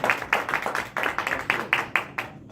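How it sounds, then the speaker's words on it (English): A small Toastmasters club audience clapping after a speech, with distinct, separate claps in a quick uneven rhythm from a handful of people nearby, fading toward the end. "Give a round of applause."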